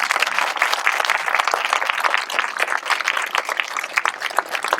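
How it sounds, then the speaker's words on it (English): A stadium crowd at a Memorial Day show at Landry Stadium claps for Boy Scout troops and their honor guard, with dense, steady applause throughout and no voices over it. "so give them a round of applause."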